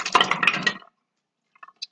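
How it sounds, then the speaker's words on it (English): Water drains from a fursuit foot bath with a brief close gurgling splash lasting under a second, followed by silence and a couple of faint clinks. "drain all the water."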